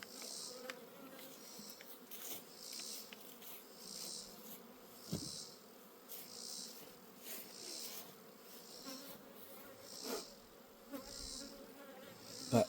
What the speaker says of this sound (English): Look how many bees are out here right now.